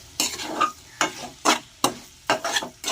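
Spoon scraping and stirring a shrimp and banana flower dish in a hot pan, a run of sharp sizzling strokes in an irregular rhythm, close and fairly loud, with no talk.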